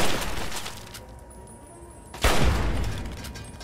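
Mark 3 turret fire in Fallout 3, a sudden loud burst of shots erupting midway through quieter game ambience and quickly fading.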